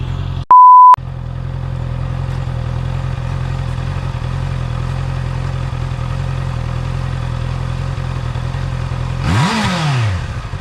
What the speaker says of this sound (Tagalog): ito yung tunog ng stock exhaust.